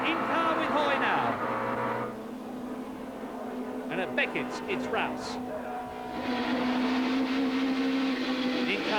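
Vauxhall and BMW touring cars racing at Silverstone in the 1991 British Touring Car Championship, heard in-car as a loud engine drone rises and falls through gear changes beneath a commentator talking throughout.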